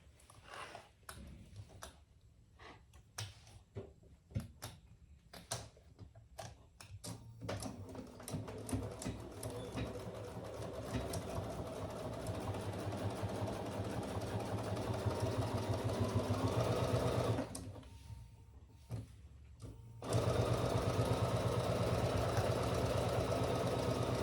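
A sewing machine runs rows of stitches on a travel jewelry case in close, bursts of rapid whirring, choppy at first, then long continuous runs with a brief pause before resuming.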